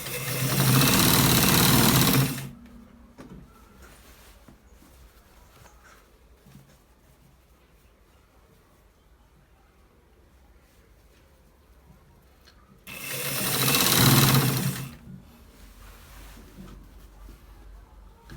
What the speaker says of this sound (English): We are stitching it to the down part.